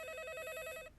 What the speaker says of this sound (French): Le téléphone, c'est le téléphone, répondez.